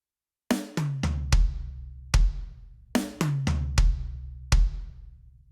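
A drum kit plays a short lick across snare, rack tom, floor tom and kick, sharp close hits in two quick repeated phrases with ringing decays and no voice.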